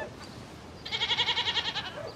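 A goat that has been getting into a village front garden gives one wavering, pulsing bleat of about a second. It is fairly close and clear over faint outdoor background noise.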